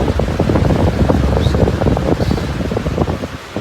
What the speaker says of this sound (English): I'm doing a review here on the 18-inch outdoor fans.